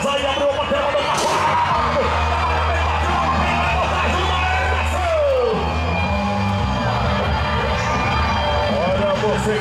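Children shout and yell in a loud, continuous din at a rodeo event, with crowd noise and a booming announcer voice mixed throughout.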